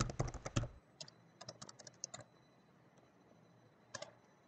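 Login username and password typed on a computer keyboard: a fast burst of loud clustered keystrokes, then scattered lighter taps and a final short flurry, close by in a quiet room.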